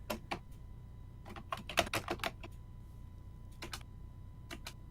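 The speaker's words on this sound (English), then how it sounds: "just hear him typing." Short bursts of keyboard typing, quick clusters of clicky keystrokes separated by pauses, close by and alone against a quiet low hum.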